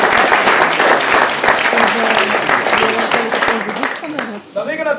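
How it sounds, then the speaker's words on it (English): A Māori welcome gathering in New Zealand claps for the chefs who prepared a feast, a loud, close round of applause that thins out near the end as a voice starts speaking. "Pai o ringa wera, your chefs, how about a round of applause?"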